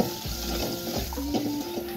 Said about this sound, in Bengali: অল্প তেলে বেগুনটা ভেজে তুলে নেব।